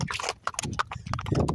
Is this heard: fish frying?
no